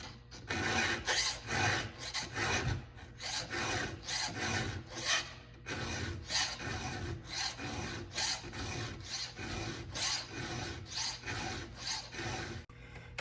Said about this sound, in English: when you're doing these finishing strokes, that lighter touch helps you keep the same stroke every time